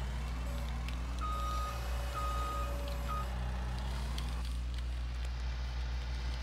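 A skid loader reversing on a farm gives off a few evenly spaced electronic beeps over a loud, steady diesel engine rumble, with the beeps fading off toward the end.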